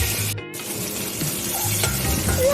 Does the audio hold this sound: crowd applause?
no